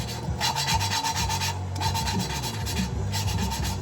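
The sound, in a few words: lapping engine valves with abrasive grinding compound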